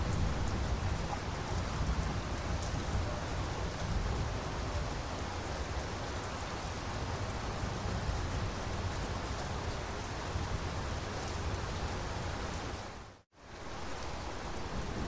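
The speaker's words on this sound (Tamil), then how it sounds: "நார்மலாக மழை பெஞ்சிக்கிட்டு இருந்தது" Heavy rain falls steadily in a UAE housing complex during record-breaking rainfall, a dense continuous hiss of drops on surfaces that keeps an even loudness and breaks off in a brief gap near the end, with no voices.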